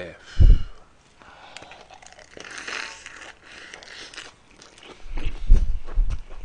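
Close-up crunchy bites into a lettuce wrap filled with green-onion bulgogi, with a sharp crunch at the start and another cluster near the end, and softer mouth sounds and murmuring between.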